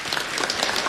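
Convention audience at KICC Nairobi clapping for a retirement benefits policy task force, a short burst of many hands applauding, bright and dense, with no voices over it.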